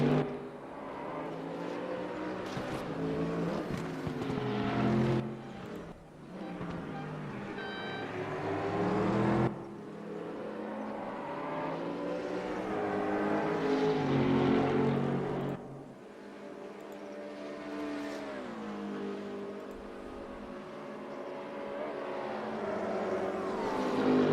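GT race cars circling Bathurst in a racing game, engines droning and rising in pitch through gear changes, with cars passing in loud waves and a sustained revving whine that fades and returns over the run.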